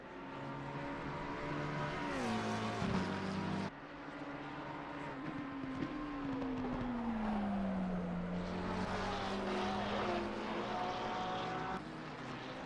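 GT3 race cars lapping Brands Hatch in a racing game, engines droning loudly and steadily with rising and falling pitch as cars pass and shift gears, several machines overlapping throughout.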